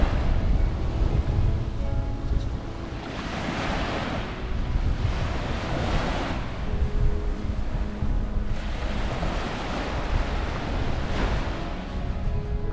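Ocean waves rolling in on Four Mile Beach at sunrise, a steady loud wash of surf with periodic swells breaking and receding, mixed with wind buffeting the microphone, no voices.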